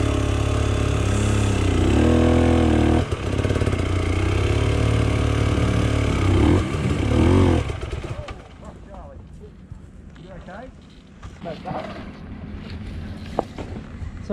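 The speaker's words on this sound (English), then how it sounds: "so he uses the clutch to hold the bike in position" An enduro motorcycle engine idles and is feathered on the clutch to hold position on a steep Romaniacs hill climb, loud and steady for about seven seconds before dropping away under voices and outdoor noise.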